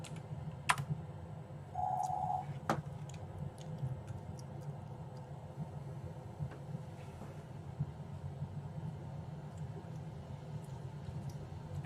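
Keyboard typing at a computer while a monster-tamer game plays, heard as scattered clicks and taps over a steady low background hum with a brief beep-like tone.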